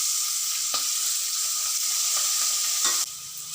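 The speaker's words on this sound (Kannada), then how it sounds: "ಈಗ ಹಸಿಮೆಣಸಿನ್ಕಾಯಿ, ಕರಿಬೇವಿನ ಸೊಪ್ಪು, ಆಮೇಲೆ ಈರುಳ್ಳಿ ಒಂದು ಹಾಕ್ತಾ ಇದ್ದೀನಿ." Onion, green chillies and curry leaves fry in a hot pan with a loud, steady sizzle, punctuated by a few brief scrapes of stirring close by.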